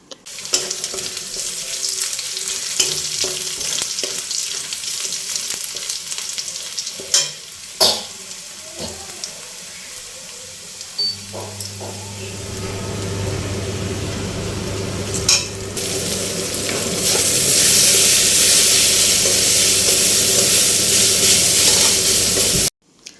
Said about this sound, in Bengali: এখন রসুনগুলোকে একটু লাল লাল করে ভেজে নিই